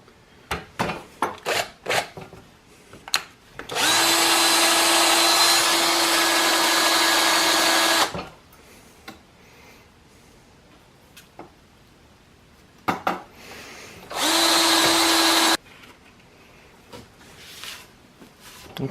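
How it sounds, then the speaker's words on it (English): Drill boring a hole down through a metal part for a homemade belt grinder, two sustained loud whirring runs of about four and two seconds separated by clanks and handling knocks. "we're just going to drill a hole right down through this guy"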